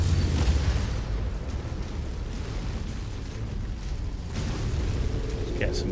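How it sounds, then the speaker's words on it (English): In MechWarrior 5 Mercenaries, an incoming missile explodes with a heavy, rumbling boom at the start that fades into a noisy low roar, followed by a second swelling burst near the end. "Incoming missile."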